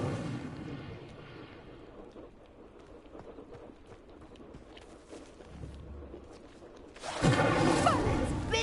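Incendio fire spell igniting a pyre in Hogwarts Legacy on PS5. Low rumbling game ambience is followed by a sudden loud, roaring whoosh of flames that swells near the end.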